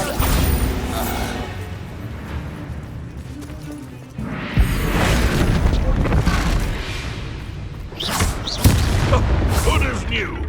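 A Bombarda blasting spell from Hogwarts Legacy detonates in a sudden loud boom midway, followed by crackling debris and further impact bursts against steady game ambience.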